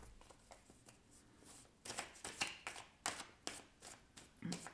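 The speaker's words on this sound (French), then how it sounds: "Mais je ne sais plus mélanger mes cartes" Tarot cards are shuffled by hand in quiet, rhythmic bursts of soft riffling and tapping, close and faint, with no talking.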